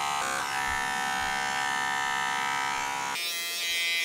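A blackhead vacuum device drones steadily against facial skin, a loud, close, continuous electric buzz with a rich tonal whine that shifts pitch abruptly near the end as the suction changes.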